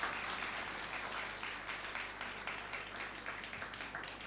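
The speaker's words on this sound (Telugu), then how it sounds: "Let us all give once again a big hand." Guests at a live church wedding ceremony in Nuzvid applaud the couple with a dense, even burst of clapping that continues steadily throughout.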